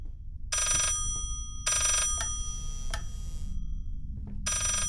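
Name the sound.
telephone ringing backwards in Layers of Fear video game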